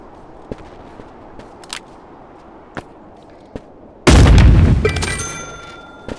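Burst of gunfire from a chicken-hunting video game in a snowy map, one loud sustained blast of shots about two-thirds through after a stretch of faint isolated clicks, with no talking over it.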